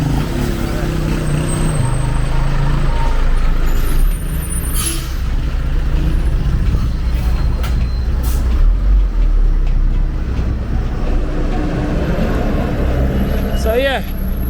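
Street traffic in Trench Town, Jamaica, with a truck nearby releasing a hiss of air brakes, a low engine rumble underneath, and voices talking over it throughout.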